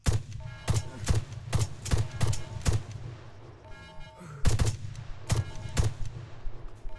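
Gunfire in the military shooter game ArmA 3: a run of sharp, cracking shots in quick bursts with a brief lull midway, then more shots. Fairly distant, with no voices over it.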